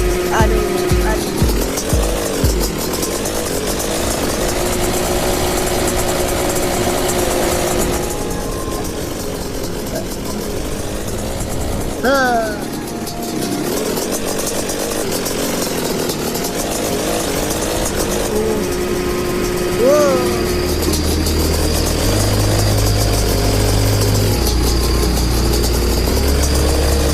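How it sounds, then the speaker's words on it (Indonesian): A motorcycle engine runs steadily for the whole stretch, a loud, continuous rumbling drone with shifting pitch, partly masked by music and background clatter. "Motor."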